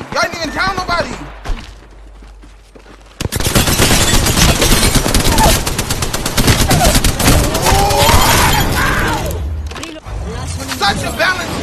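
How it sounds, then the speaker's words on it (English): A video game gun fires nonstop in a dense, loud automatic stream for several seconds, preceded by sparser shots, with a player talking over the gunfire. "It just don't stop shooting."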